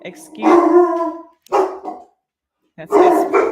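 Dogs bark loudly and close by in three drawn-out bursts separated by short pauses.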